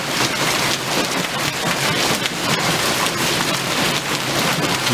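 A dense, steady clatter of marble-sized hailstones pelts a balcony during a monsoon storm, loud and continuous like a heavy downpour, with no voices.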